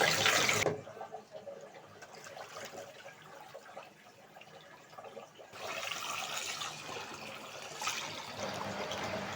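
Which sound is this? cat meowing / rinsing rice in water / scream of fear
rinsing rice in water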